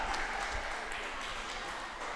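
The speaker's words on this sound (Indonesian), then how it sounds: "Beri tepuk tangannya meriah untuk adik Zahra" An audience claps for a child performer at an Islamic children's festival; the applause is faint and distant, a soft continuous patter of many hands.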